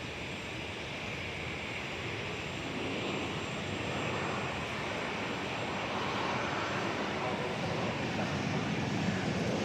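An incoming airliner from Oklahoma City approaching DFW Airport, heard as a faint, distant engine roar that slowly swells louder over several seconds, alone without talk.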